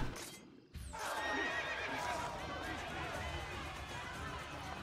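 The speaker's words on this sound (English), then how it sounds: "I have got a new horse which has blue reflections." In Assassin's Creed, a horse lets out a loud whinny and then gallops, hooves drumming steadily under busy game ambience, with a voice talking over it.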